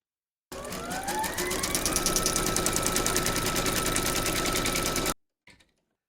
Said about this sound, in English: Pop your hoop into your machine and stitch round number 7, and that's going to secure the edges of both fabrics.